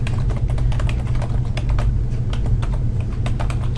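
Steady, rapid typing on a computer keyboard, close and clear, with quick irregular key clicks over a low background hum and no talking.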